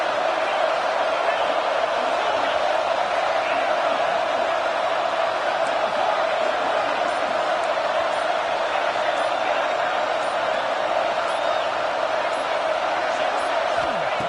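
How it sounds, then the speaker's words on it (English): A stadium crowd in College Football 26 roars as the defense is backed into the red zone, a broad, steady wall of cheering noise holding loud throughout with no clear breaks. "the crowd coming to life here, trying to help this defense down in the red zone"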